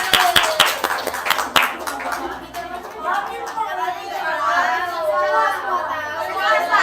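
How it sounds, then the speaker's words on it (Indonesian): A classroom audience claps for a short burst at the start, and then relaxed chatter among the students continues with no further clapping. "Ayo tepuk tangan ke kelas."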